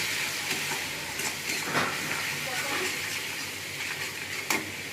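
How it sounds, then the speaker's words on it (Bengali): Chili powder, turmeric and salt sautéing in hot oil for an aar fish curry, giving a steady close sizzle with light stirring scrapes throughout. "লঙ্কা গুঁড়ো, নুন দিয়ে ভালো করে একটু কষিয়ে নেব"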